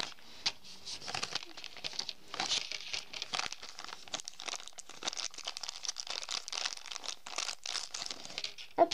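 A crinkly plastic bag of decorations being opened and handled, with repeated close, uneven rustling and crackling bursts over a quiet background.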